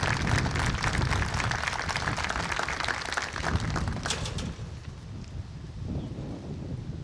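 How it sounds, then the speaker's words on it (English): Applause at a Riverside graduation ceremony, a moderately loud spread of clapping that runs for about four seconds before thinning to scattered claps and room noise. "Let's give them a round of applause."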